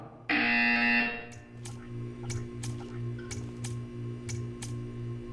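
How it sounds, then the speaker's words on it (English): A loud electronic buzzer in the video game Portal 2 sounds for about a second, followed by a steady low hum and a series of regular soft ticks. "You will hear a buzzer. When you hear the buzzer, stare at the art."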